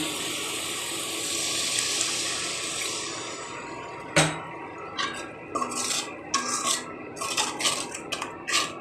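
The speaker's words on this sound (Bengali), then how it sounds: "দিচ্ছি সামান্য পানি" Water is poured into a cooking pan of spiced masala with cumin, turmeric and coriander powder for a small-fish curry, giving a running, splashy wash after a sharp clink of a utensil, then a few scattered taps and clatters close by.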